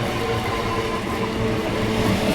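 A 13000-series 12-coach suburban train rolls into Bidhannagar Road station with a loud, steady rumble and mechanical drone, heard close and continuous without any voices.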